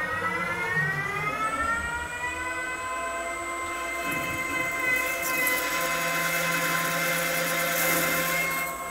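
A TRAK TRL 1845RX toolroom lathe spindle runs with a steady, close machine whine of layered tones that holds evenly throughout, with no talk.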